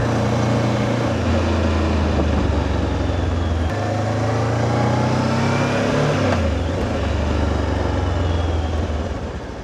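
A Voge DS 525X motorcycle is ridden through BGC, its engine droning and rising and falling through gear changes amid traffic, close and steady for nearly ten seconds.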